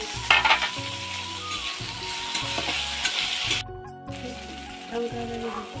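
Tomatoes tipped into a pan of frying onion and garlic paste, loud sizzling with scraping, stirring strokes close by, a short drop-out midway before the sizzle resumes.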